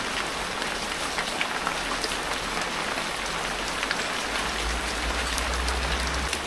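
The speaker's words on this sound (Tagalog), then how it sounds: "Malakas ang ulan din sa Nabotas." Heavy rain pours steadily, a dense loud hiss of drops hitting surfaces with occasional louder spatters, no voices.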